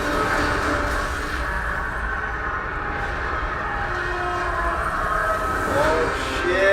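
A rumbling train scene from a Spider-Man: Homecoming trailer rolls along loud and steady, with metallic screeching tones drifting through the roar and swelling toward the end.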